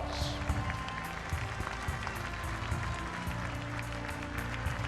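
Crowd applause in a gym for Minden High School at a girls state basketball championship, sustained dense clapping with crowd murmur and some low rumble underneath, steady throughout.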